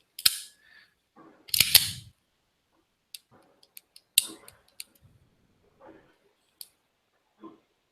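Indoors in a lobby, a gun fires a few sharp, snapping reports spaced apart, with scattered mechanical clicks in between against near silence.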